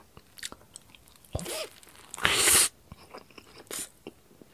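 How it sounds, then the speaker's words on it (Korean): Close-up eating of a big fried tofu rice ball with buldak mayo sauce: several moist bites and crunchy chews in bursts, the loudest crunch in the middle, with smacking between and no talking. "이런 느낌으로 먹어볼게요"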